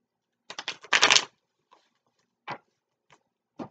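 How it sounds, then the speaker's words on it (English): A deck of tarot cards is shuffled in a quick riffling flurry of papery flutters, followed by a few isolated soft card slaps, close and otherwise quiet. "Let's do a little shuffle of this other deck in case I need to clarify."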